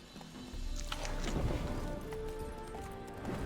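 Hooves of a galloping horse in The Witcher 3 thud in a steady, fast rhythm, moderately close, with a faint voice at the edges.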